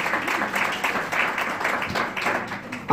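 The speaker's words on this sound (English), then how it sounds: "Clap your hands if you've seen that before" A church audience claps together, a scattered burst of applause rising and falling over a few seconds at moderate loudness.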